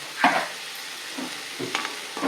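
Raw banana curry with onions is stirred and fried in a pan, a light sizzle underneath with a few scraping stir strokes spaced through the short stretch.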